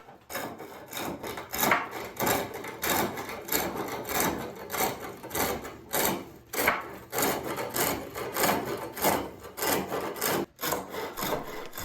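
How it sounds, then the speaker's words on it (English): A rough gouge cuts bulk material from a desk leg turning on a foot-powered spring pole lathe, giving a close, rhythmic scraping and chattering that rises and falls with each stroke, with no talking. "I'm starting with a really rough gouge here, and it's just to remove a bulk of the material here."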